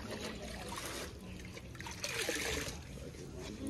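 Clothes being rinsed in water during laundry in Ghana, giving a steady trickling and splashing with sloshing throughout, fairly close and moderately loud, with no talking.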